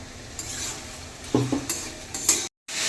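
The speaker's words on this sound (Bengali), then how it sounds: "আলুটা সুন্দর করে ভাজা হয়ে গেছে, পেঁয়াজও সুন্দরভাবে ভাজা হয়ে গেছে।" Potatoes and onions fry in a pan for chana masala, a steady close sizzle broken by a few sharp scrapes and knocks of stirring, then a brief cut to silence before the frying resumes.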